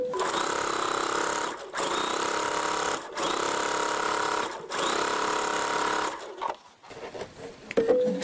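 Sewing machine stitching across the back piece of a kimono, running in four steady bursts separated by short pauses, then slowing and stopping with scattered clicks near the end.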